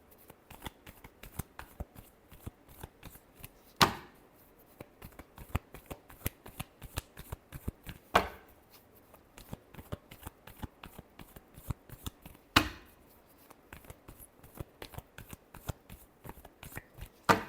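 Tarot cards shuffled by hand in quick, crisp riffling bursts, close and fairly quiet, with three sharper snaps of the deck set apart at regular intervals.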